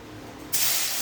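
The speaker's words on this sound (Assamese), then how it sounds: "ভজাৰ কাৰণে মছলা মাছ ভাজিব দিলোঁ।" Small tingora fish with spices dropped into hot oil in a pan, Assamese style: a sudden loud hiss and sizzle that breaks out after a quiet start and holds steady to the end.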